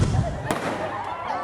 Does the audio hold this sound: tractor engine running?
no